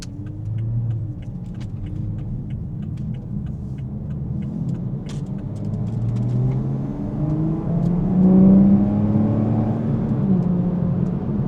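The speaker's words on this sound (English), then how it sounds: "That induction noise is insane. The whole way you could hear that turbo spool." A 2020 Toyota Supra 3.0 GR engine drones steadily under acceleration on back roads, its low rumble rising in pitch with a whirring intake and turbo whine building toward the end.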